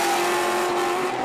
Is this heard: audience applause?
no